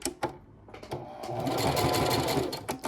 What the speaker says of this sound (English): I'm lowering my presser foot and I'm gently stepping on the sewing pedal.